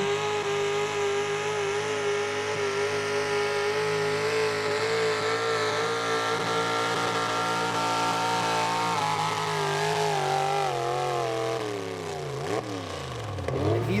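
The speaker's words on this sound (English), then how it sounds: "Jim Matthews from Jones Mills, Pennsylvania, a 1989 Dodge he calls Plum Crazy" A 1989 Dodge gas 4x4 pulling truck called Plum Crazy roars at a truck pull, with a loud, sustained, harmonic engine wail held steady before the pitch wavers and sags near the end.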